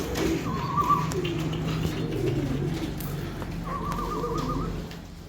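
Pigeons in a Khachmaz loft, Arif's flock of Baku pigeons, give soft wavering coos in two short bursts over a steady low background hum.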